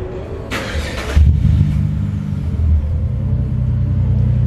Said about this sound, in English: You're probably just gonna hear more turbo than anything